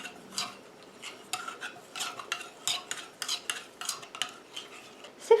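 Plastic spoon stirring urea in a small saucepan, a steady series of light scraping and swishing strokes against the pan bottom, close and fairly quiet, with no talking.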